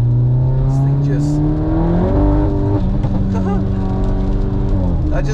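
An all-wheel-drive Mk8/8Y car fitted with an aftermarket intake accelerates hard in second gear on a wet road, wheels spinning. The engine drone is loud and close and climbs in pitch, with a voice over it.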